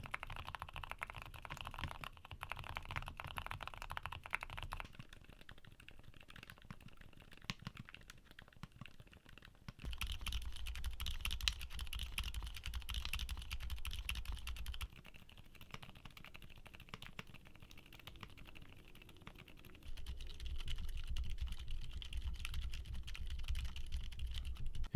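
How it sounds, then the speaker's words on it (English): Silent linear keyboard switches are typed on in back-to-back sound tests, producing steady muted key presses in continuous runs, the tone shifting between a few different switch sets, with no speech. "Now here are back-to-back sound tests of the switches we talked about today."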